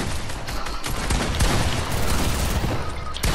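Fortnite gunfight: continuous dense gunfire, loud and overlapping with no clear gaps, a steady crackling barrage throughout.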